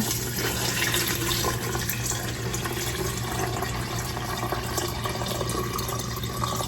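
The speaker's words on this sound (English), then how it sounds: "I'm going to cover these in cold water." Cold water pours steadily and continuously into a container of lemons, a constant rushing splash with no talking.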